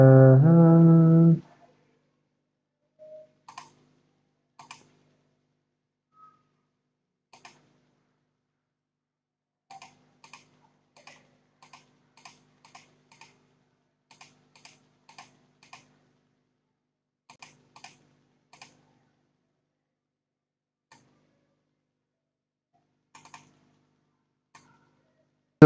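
Sparse keystrokes on a computer keyboard click in short scattered bursts and single taps after a brief moment of speech, with near silence between them.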